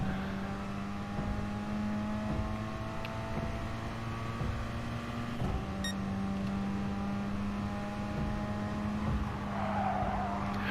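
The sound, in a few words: race car cornering in the video game GT Sport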